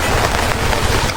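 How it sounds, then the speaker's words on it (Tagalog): Strong, steady wind roars across an open mountain summit at a campsite, a dense broadband rush buffeting the microphone with no voices. "inabutan na kami ng sobrang lakas ng hangin kasi nasa tuktok kami ng bundok"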